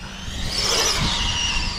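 Seventh-scale RC basher car on a 3S battery, geared high, driving and bouncing on stiff suspension, a steady close whirring drive noise with rattling, no talk.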